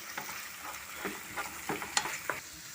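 A spoon stirring Gobi Manchurian sauce in a pan, soft scraping and light sizzling with a few sharp clinks against the metal, quiet and close, no voices.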